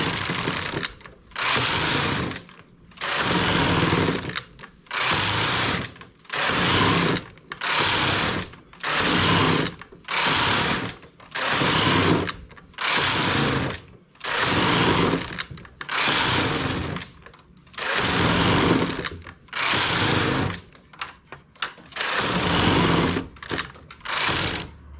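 Domestic knitting machine carriage run back and forth across rows for a slipper sole, a loud rhythmic mechanical whir repeating in steady bursts with brief pauses between passes, no talking.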